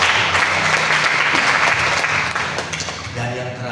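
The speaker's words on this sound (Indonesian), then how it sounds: "Kita berikan tepuk tangan." A church congregation at a morning Indonesian sermon applauds, a dense, loud wash of clapping from many hands that tapers slightly near the end, with a voice speaking over it.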